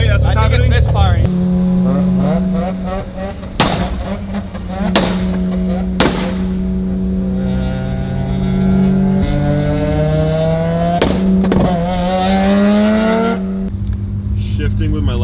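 A Mazda RX-7 rotary with rolling anti-lag revs and misfires, its rising and falling engine note broken by several sharp loud pops and bangs from close by, with people talking over it.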